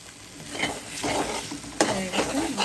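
Tomato chutney sizzles and fries in a pan while a spoon stirs it with close scraping strokes over a continuous crackle.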